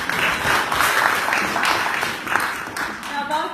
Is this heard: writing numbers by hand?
no